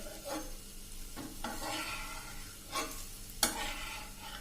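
An instant paper dosa made from cooked rice sizzles on a hot pan with a soft, steady crackle, broken by a few sharper scraping strokes.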